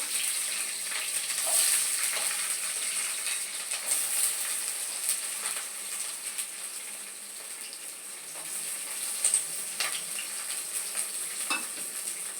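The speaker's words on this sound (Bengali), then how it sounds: "দেখো, ক্যাপসিকামটা ভালো করে আমি ভেজে নেব।" Chopped capsicum frying in a pan gives a steady, close sizzle with occasional stirring scrapes and clicks, continuous throughout with no talking.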